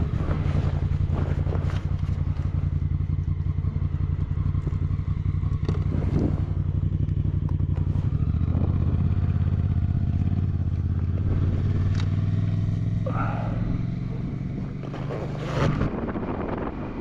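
A Honda Africa Twin motorcycle rides a dirt road in the outback, its engine droning steadily low beneath heavy wind buffeting on the microphone, with a shift in pitch midway.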